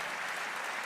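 A brief, even burst of crowd clapping from the audience at Atlanta's State of the City address, honoring labor leaders, dense and sustained with no voices.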